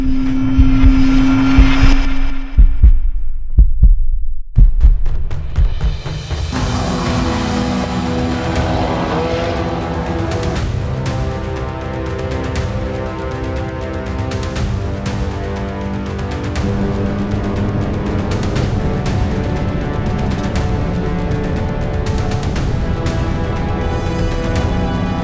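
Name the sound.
time attack race car driving on track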